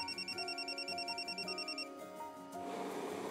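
A phone rings indoors with a warbling electronic trill, quiet and repeating for a couple of seconds before it stops, followed by faint room noise.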